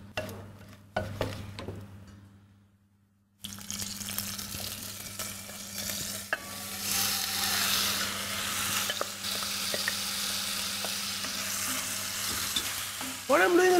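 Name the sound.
vegetables being sautéed in a pan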